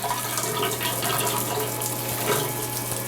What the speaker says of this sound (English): I'm actually here to demonstrate a nice little portable shower unit